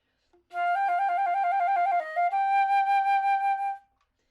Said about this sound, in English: this is just an F to a G trill